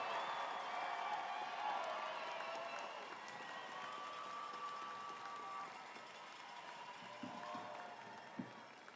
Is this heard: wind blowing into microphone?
no